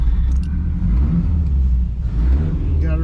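An old car's engine running with a loud, steady low rumble that fills the whole stretch, a slight rise in revs near the end, close to the listener.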